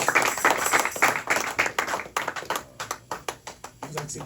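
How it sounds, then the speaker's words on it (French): A church congregation applauds for the Lord, beginning with a thick burst of many hands that thins into a rhythmic clapping pattern with distinct, evenly spaced claps toward the end. "Rendons applaudissons pour le Seigneur."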